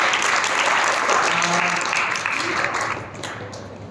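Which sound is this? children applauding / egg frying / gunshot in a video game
children applauding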